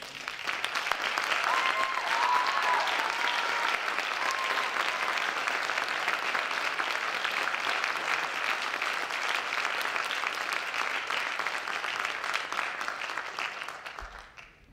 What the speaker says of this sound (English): Tri-M students, please stand so we can applaud your efforts.